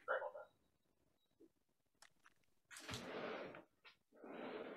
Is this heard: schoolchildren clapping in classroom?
no